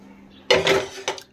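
Kitchen dishes and cutlery clink and clatter as they are put away at home after making coffee and popcorn, with a few brief, close metallic knocks.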